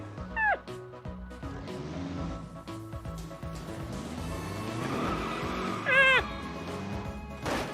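An air-cooled-sounding car engine in the BeamNG driving game drones steadily with shifting pitch, joined by sharp tire squeals, while a person talks over it.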